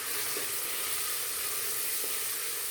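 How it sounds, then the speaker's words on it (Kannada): Onion, green chili, garlic and tomato fry in a little oil for a spinach sambar, giving a steady, even sizzle heard up close and alone, with a couple of faint stirring knocks. "ಟೊಮೆಟೊ ಹಣ್ಣು ಹಾಕ್ಕೊಂಡಿದ್ದೀನಿ, ಇದು ಅಷ್ಟೇ ಒಂದು ಸ್ವಲ್ಪ ಎಣ್ಣೆಯಲ್ಲಿ ಫ್ರೈ ಮಾಡ್ಕೊಳ್ಳಿ"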